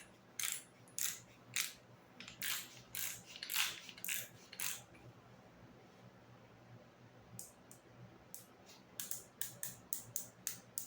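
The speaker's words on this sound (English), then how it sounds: "So let's tighten it all the way up and see if the snap-on can tighten the bolt to 250 foot-pounds." A Snap-on 18V cordless tool tightens a bolt held in a vise, toward 250 foot-pounds, then a torque wrench checks it, producing quiet, rapid mechanical ratcheting clicks in short runs with a pause in the middle.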